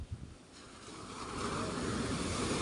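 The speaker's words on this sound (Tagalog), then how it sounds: "Palaki ng palaki yung alon at tumataas na yung sa buhangin yung hinahampasan ng alon." Ocean waves building and crashing up the sand on a beach, a steady broad wash of surf that swells louder through the second half, mixed with wind buffeting the microphone.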